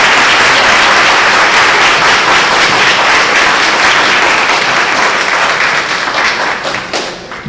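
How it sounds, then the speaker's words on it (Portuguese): An audience at a front-end development event applauding a speaker, loud and dense clapping from many people close by that holds steady and then tapers off near the end. "uma salva de palmas para o Léo"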